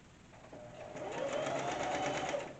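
A sewing machine stitching thin lining fabric whirs in a fast, steady run, speeding up and then slowing, close and moderately quiet with no talking.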